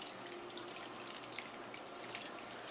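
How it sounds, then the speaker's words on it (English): A flavoring liquid is poured over grilled mixed vegetables, a soft continuous trickle with light splashes and drips, quiet and close. "all we're going to do is just pour this"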